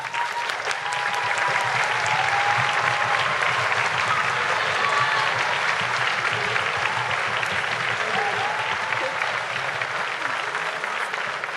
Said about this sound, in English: I just wanted to have them stand up and give them a round of applause